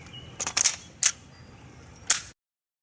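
An airsoft KWC Desert Eagle .50AE pistol fires at a target: four sharp, close cracks, two in quick succession followed by two spaced apart, then abrupt silence.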